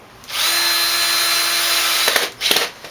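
A power drill drives screws during a BSD assembly, a loud, steady whine for about two seconds followed by a couple of short, sharp bursts as the screw seats, close up.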